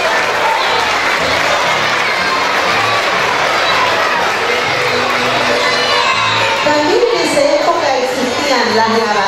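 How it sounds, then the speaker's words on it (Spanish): A large crowd at a school's 25 de Mayo patriotic performance claps and cheers loudly and steadily, with whoops and children's shouts mixed into the sustained applause. "Aplauso fuerte para ellos."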